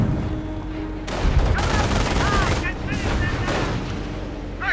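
Sustained gunfire and explosions from the World War II strategy game Company of Heroes, loud and dense with overlapping bursts, alongside voiced unit callouts and other in-game sounds.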